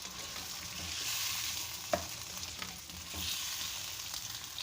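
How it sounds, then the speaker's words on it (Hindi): Goat meat that was boiled with salt sizzles steadily while frying in a pot for Sindhi biryani, a continuous crackling hiss with a few sharper clinks of stirring, heard alone with no talking. "गोश्त हमने देखिए 5 मिनट तक भून लिया।"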